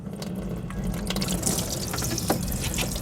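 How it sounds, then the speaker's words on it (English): Coolant drains from the opened radiator petcock of a Pontiac Vibe / Toyota Matrix into a drain pan, a steady close splashing trickle of liquid running continuously with no talk. "take this peacock here, twist it so we can drain our fluid before we go any further"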